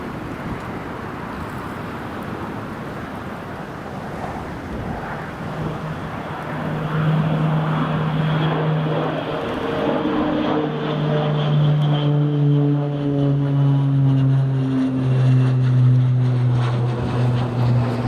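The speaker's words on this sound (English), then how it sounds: "that's the King Air rolling" A King Air turboprop rolls along the runway at Newcastle Airport on a windy day, its propeller drone steady, then rising into whining tones as it passes, moderately distant with wind noise throughout and no talking.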